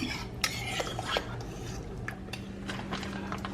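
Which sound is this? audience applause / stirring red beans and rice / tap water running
stirring red beans and rice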